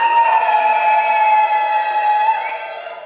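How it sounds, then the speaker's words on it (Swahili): Sustained high ululation from a church congregation in Chunya during a Sunday service, a loud piercing trill held steadily for nearly the whole stretch before trailing off near the end. "tuongeze na vigelegele pia"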